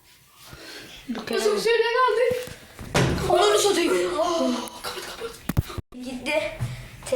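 Heavy thuds and bangs ring out as someone forces a stuck elevator door, mixed with excited voices talking and laughing throughout in the cramped car.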